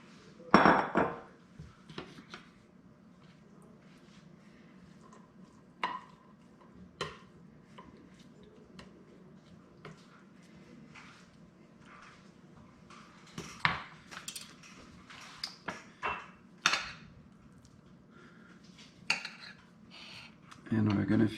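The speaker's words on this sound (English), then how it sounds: "we're gonna add the rest of the beans to cover up." Beans spooned into a cassoulet pot in a kitchen: scattered clinks and taps of a utensil against the pot, irregular and fairly close, with quiet stretches between knocks.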